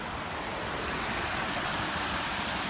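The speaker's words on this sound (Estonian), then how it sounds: "Väike Niagara Falls." Small waterfall in Monaco, a steady, even rush of falling water with broad hiss throughout, continuous and close, with no voices.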